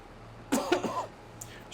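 A chesty, phlegmy cough from a person recovering from illness, two or three harsh close bursts in quick succession, followed by a faint throat sound in an otherwise quiet room.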